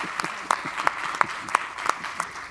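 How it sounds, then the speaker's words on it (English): A small audience at a Central Energy Fund business event claps in brief, light applause, with a few sharp distinct claps standing out. "Can I just get a round of applause?"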